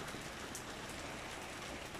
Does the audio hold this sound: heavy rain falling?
yes